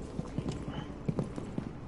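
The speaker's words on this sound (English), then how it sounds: "Oh, I hear footsteps." Footsteps in the tactical shooter video game Rainbow Six Extraction, heard as a quick series of soft, thudding steps at a fairly even pace, moderately close, with no talking.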